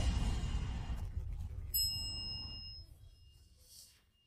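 A bell rung inside an abandoned hospital in Taipei gives one bright metallic ding that rings on and fades over about two seconds, heard faintly against low rumbling background noise.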